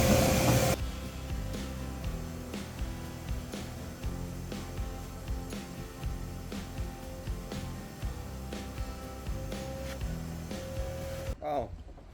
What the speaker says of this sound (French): je vais prendre l'aspirateur, ça va bien marcher.